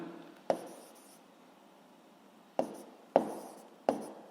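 Pen or chalk writing out a physics equation, heard as four sharp, separate strokes spaced a second or two apart, close but quiet, with no speech.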